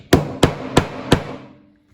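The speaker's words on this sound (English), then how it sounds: "I'm having to go at it with a hammer a bit to get it out" Four evenly spaced, sharp hammer blows on a tight, stuck part in a damaged Briggs engine from a John Deere D105 mower, close and loud, each ringing briefly before the last fades out.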